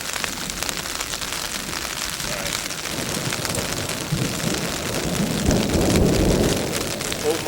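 A thunderstorm with steady rain hissing on surfaces, while a low thunder rumble swells and grows louder toward the end, under a dense, continuous wash of falling water.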